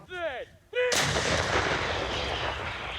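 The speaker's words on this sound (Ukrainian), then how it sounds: "Хлопці заряджають гармати." A brief whistling tone, then a single deafening 152 mm artillery gun blast close by, its broadband roar and rumble rolling on for a couple of seconds.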